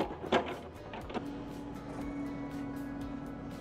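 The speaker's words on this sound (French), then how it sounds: "il faut retasser à la plaque vibrante" A vibrating plate compactor packs earth on a pump track turn, giving a steady droning hum with a sustained mechanical tone and a few sharp knocks near the start, close and moderately loud.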